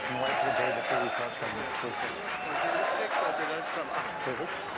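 Crowd at a schoolboy rugby match between Rondebosch and Bishops applauds steadily throughout, a broad wash of clapping and cheering under continuous commentary talk.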